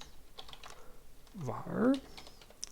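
Computer keyboard typing during a virtual machine backup task: a run of soft, close key clicks at an uneven pace, with someone briefly speaking over the keystrokes.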